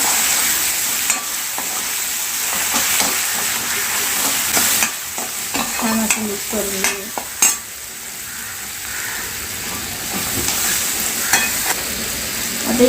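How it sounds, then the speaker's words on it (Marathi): Spices with salt and cumin powder for ghevda bhaji sizzle steadily in a pan and are stirred with occasional scraping and tapping strokes over the continuous frying hiss. "आता आपण या मसाल्यांना सगळं असं मिक्स करून घेऊया"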